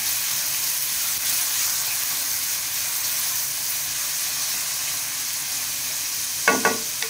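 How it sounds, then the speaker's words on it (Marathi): Chopped onion sizzles steadily in hot oil in a pan, a dense continuous frying hiss close by, with a brief clatter of stirring near the end. "कांद्याला पण छान मऊ होईपर्यंत जरा गरम करून घेऊया, तेलात फ्राय करून घेऊया।"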